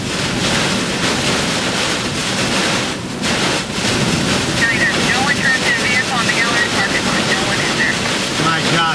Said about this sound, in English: My gosh, look at the wind.